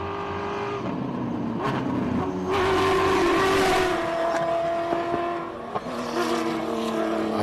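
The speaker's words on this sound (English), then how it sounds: "a complete off-road car that should be doing Dakars and does do Dakars and rally raids" An off-road rally-raid car built for Dakar-style events climbs a hill during a hillclimb shootout, its engine revving and changing pitch at a moderate distance with a brief dip before it picks up again.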